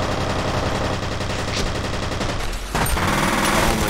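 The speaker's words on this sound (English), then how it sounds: "Open fire on him." Rapid automatic gunfire in the first-person shooter F.E.A.R., continuous loud bursts with sharp impacts and a brief lull before the shooting resumes.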